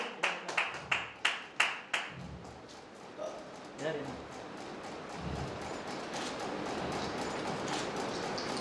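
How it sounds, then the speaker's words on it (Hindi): An audience at a public honouring event claps in a few sharp bursts of applause that fade into a noisy hall murmur, with speech amplified over a loudspeaker. "आप लोग तमाम लोग ताली बजा करके इनका स्वागत करेंगे"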